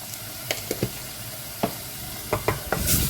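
A spoon stirs bouillon powder into caramelised onions frying in a pan, with a steady sizzle broken by several distinct scraping, squishing stirs at uneven intervals, close up and without voices.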